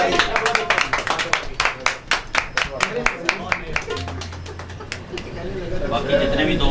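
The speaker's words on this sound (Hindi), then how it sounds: "खान साहब के लिए एक दफा भरपूर तालियां बजाइए" An audience at an evening gathering claps rhythmically in sharp, evenly spaced beats that fade near the end, loud and close, with some voices underneath.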